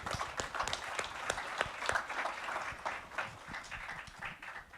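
Audience applause at the USISPF India Leadership Summit 2024 during a ministerial speech: a steady wash of many hands clapping, with sharper individual claps standing out, continuous through the whole stretch at moderate level.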